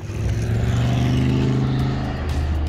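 Race cars running a heat on a dirt circle track produce a steady, loud engine drone that holds without a break, heard from a moderate distance with no talk over it.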